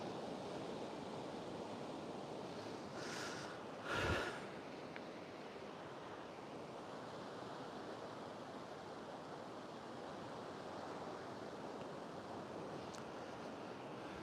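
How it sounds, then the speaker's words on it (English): Sea waves at Playa Paraíso beach, a faint continuous wash of surf heard from a distance, with brief wind buffeting on the microphone partway through. "Love the sea. I don't know if you can hear that."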